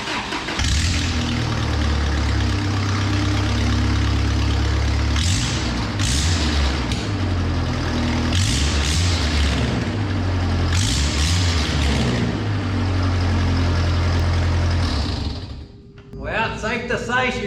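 A 1992 Toyota pickup engine cranks in several thumping bursts, then catches and settles into a loud, rough idle with the raspy chuff of a major exhaust leak, ending in a brief quiet and a clatter.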